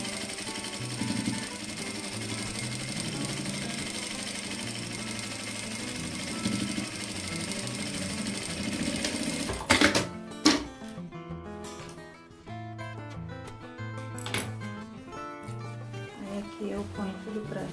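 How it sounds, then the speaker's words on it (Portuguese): A sewing machine stitches close along the edge of a fabric clutch bag, its steady mechanical whirr running through the first ten seconds, then giving way to shorter bursts with pauses and faint handling noise. "poderia fechar a mão, mas eu vou fechar a máquina. Faz uma costura aqui de beiradinha"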